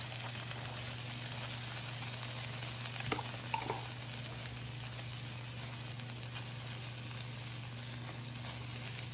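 Pasta tipped into a pan of meatballs and sauce cooking on the stove gives a steady, low sizzle over a constant hum, with a brief clatter of stirring a few seconds in; nobody speaks.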